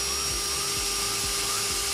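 An impact driver drills into a 12v control panel in a campervan conversion, a sustained high whine with rapid rhythmic hammering pulses, close and loud throughout the short burst.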